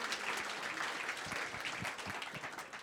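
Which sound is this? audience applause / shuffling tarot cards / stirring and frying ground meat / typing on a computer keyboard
audience applause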